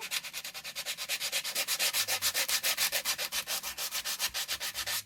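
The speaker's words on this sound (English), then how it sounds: "So I'm going to do sanding, but I'm not going to do a lot there." Sandpaper scrubs back and forth across a painted surface, roughing it up in a fast, even rhythm of roughly six or seven rasping strokes per second, close and loud with no voices.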